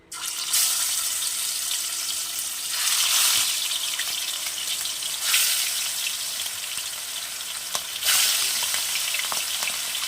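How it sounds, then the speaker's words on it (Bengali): Aar fish fries in hot oil over a lowered gas flame with a lid on. A close, steady sizzle rises in several louder surges, with a few small pops and no talking. "এবার আমি গ্যাসের আঁচটাকে কমিয়ে দিয়ে আস্তে আস্তে মাছগুলোকে ভেজে নেব ঢাকা দিয়ে"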